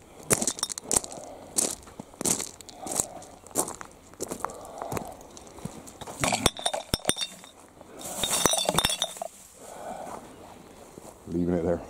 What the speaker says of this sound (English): See how much broken glass we're going to be sitting in this morning.